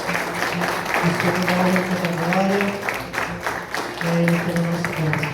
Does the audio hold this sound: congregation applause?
yes